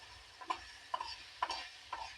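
Food for a homemade pizza frying in a pan on a gas stove, a soft continuous sizzle broken by four evenly spaced scraping stirs of a spatula.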